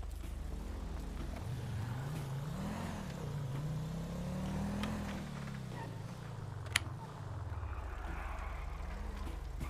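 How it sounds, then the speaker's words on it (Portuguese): A car passes by at moderate distance, its engine note rising and falling as it goes, heard over steady background noise with no talk. "Um carro."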